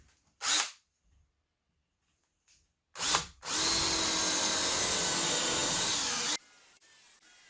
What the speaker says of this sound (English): pre-drilling, countersinking, and screwing in all the screws